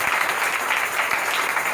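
Sustained applause from a congregation at a church gathering, honoring those who preached and prayed during the meetings; dense, steady clapping fills the room without a break.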